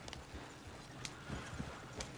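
Horses gallop in Red Dead Redemption 2, faint hoofbeats thudding irregularly beneath a low, noisy game soundscape.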